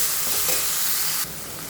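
Nayuruvi greens and onion sauté in a pan with a close, continuous hissing sizzle and a few soft stirring scrapes early on, then the frying settles lower and steadier; no voices.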